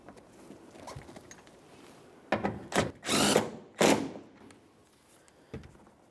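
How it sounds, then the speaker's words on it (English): A power tool drives 10mm head bolts while a tail light is reinstalled on a 2003–2007 Honda Accord, giving several short, loud whirring bursts separated by quiet gaps. "Let's get those 10mm head bolts in there."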